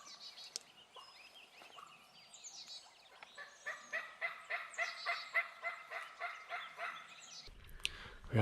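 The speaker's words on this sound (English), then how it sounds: "We got a couple of good turkeys gobbling across the property line over there." Several wild turkeys gobble from across a creek bottom at a distance, a run of repeated rippling gobbles rising and falling over roughly four seconds amid faint outdoor birdsong, followed by a brief close rustle.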